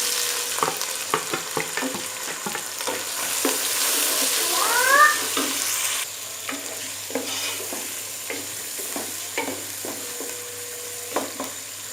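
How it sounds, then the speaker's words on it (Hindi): Chopped tomatoes and green chillies with ginger-garlic paste fry and sizzle for chicken rice, with steady crackling, repeated scraping stirs, and a brief cat-like squeal partway through. "साथ ही कटे हुए टमाटर और हरी मिर्चें डाल देंगे"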